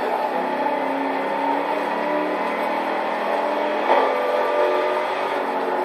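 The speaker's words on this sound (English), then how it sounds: "just listen to that supercharged V8" A supercharged V8 in a 2019 Chevy Corvette ZR1 drones steadily in the Forza Horizon 4 video game, a dense, constant engine roar held at a fairly loud level, with no talk.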